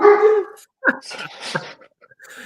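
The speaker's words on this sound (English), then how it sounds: "I missed that dog that used to permeate through the background of our podcasts." A dog whimpers and yips in the background, a few short high whines and yelps broken by brief pauses, fairly close.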